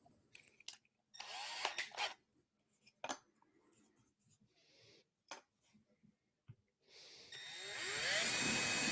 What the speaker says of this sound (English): watching Chad drill into a silicone mat